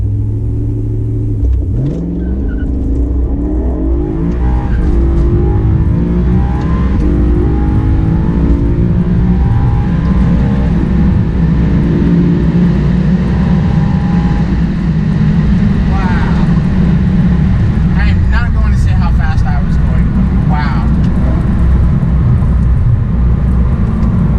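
A 2012 BMW E92 M3 pulls away from a dead stop without launch control, its engine note climbing steadily through the revs in a loud, close cabin drone, with a shift partway through and talking over it.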